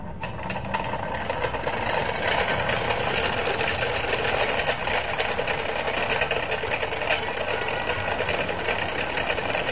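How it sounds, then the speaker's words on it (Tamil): A low-cost homemade magnetic motor generator runs with a continuous, fast mechanical whir and rattle, like a sewing machine, holding a loud, steady level close by throughout. "இப்போ என்னோட ஜெனரேட்டர் எப்படி ரன் ஆகுன்றதை பார்ப்போம்."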